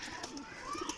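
Champion pigeons coo softly on a rooftop loft in a brief, faint burst, with a person talking over them.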